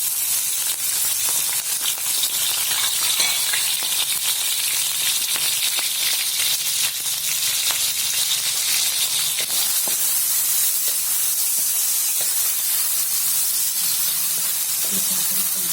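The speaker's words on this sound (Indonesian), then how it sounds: "Minyaknya udah panas, kita masukin bumbu yang tadi ya teman-teman" Spice paste is frying in hot oil for a squid and salted egg dish. The sizzle is loud, steady and hissing and lasts throughout, with faint clatter now and then.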